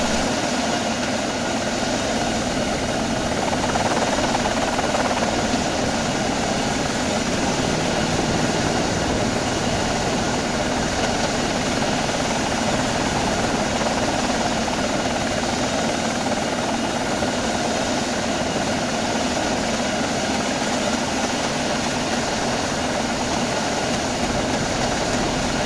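A helicopter in the flight simulator X-Plane 11 drones loudly and steadily, a continuous engine and rotor roar filling the whole stretch with no talk over it.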